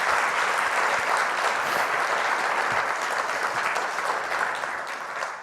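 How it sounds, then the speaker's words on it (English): An audience at a conference closing session applauds the organizers, a dense, even wash of many hands clapping that carries on steadily and tapers off slightly at the end. "So please give them a huge round of applause for an amazing job."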